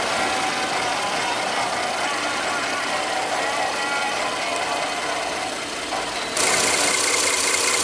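A 2016 Ford Explorer's 3.5-liter EcoBoost twin-turbo V6 idles steadily close by with an even, continuous engine hum, which grows slightly louder near the end.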